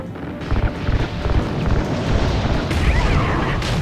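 Fuel lines blowing up in Call of Duty: Ghosts, a loud, dense rumbling blast that rolls on for several seconds with crackling bursts and a few sharper pops on top.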